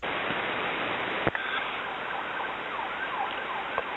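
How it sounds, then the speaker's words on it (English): Emergency vehicle sirens passing outside, their wavering wail distant and faint behind a steady hiss of static, with a brief click partway through. "Did you hear the sirens back there?"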